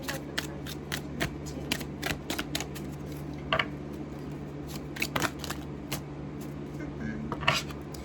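Tarot cards are shuffled close up over a steady low hum, giving a run of quick papery riffles and crisp snaps in irregular bursts, with no voices.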